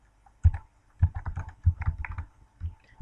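Typing a PROPER function formula into an Excel spreadsheet on a computer keyboard produces quick, close key clicks in short irregular bursts, with a few louder thumps mixed in.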